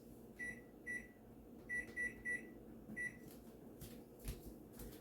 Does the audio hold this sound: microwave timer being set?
yes